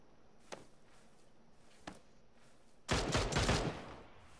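Gunfire in a first-person shooter video game: two isolated sharp shots at a distance, followed by a louder, closer burst of rapid rattling fire lasting under a second.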